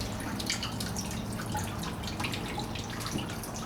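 Water drains in a steady, faint trickle from the fuel tank of a 1960 Ford F100 pickup being flushed of rust, a continuous splashing and dripping with no talk.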